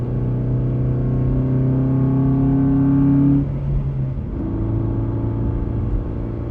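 A car engine runs with a steady, droning hum that holds close and loud, then dips briefly and shifts slightly in pitch before settling back into the same even note.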